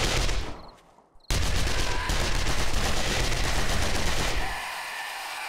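Bursts of SMG gunfire in the video game 7 Days to Die, loud rapid automatic shots after a brief lull, continuing for several seconds before tapering slightly.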